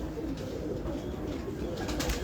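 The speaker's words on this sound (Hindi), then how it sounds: "बड़े ही शानदार कबूतर हैं और आपको मज़ा आएगा इंशाल्लाह।" Fancy pigeons cooing in a loft, soft low throaty coos layered over a dense, steady murmur of many birds close by, with no talk.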